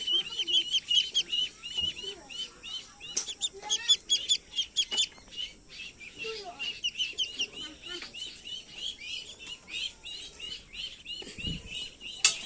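Many ducklings peep and chirp together in a busy, continuous high-pitched chatter, close by, with occasional louder calls.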